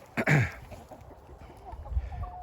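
Roosters in a flock of meat chickens in a garden give a loud cluck-like call near the start, followed by low scuffling and faint background farm noise.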